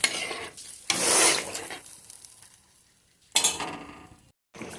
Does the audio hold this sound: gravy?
yes